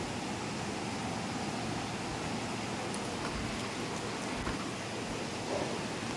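Meat sizzles steadily in a little oil in a pan, a dense even hiss of frying that stays constant throughout with no voices.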